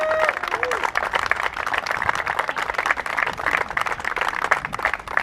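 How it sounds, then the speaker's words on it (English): An outdoor crowd at a youth sports league's opening day ceremony applauds its sponsors, a steady, fairly distant patter of clapping mixed with voices and chatter throughout. "So another big round of applause for all of our amazing sponsors and organizations."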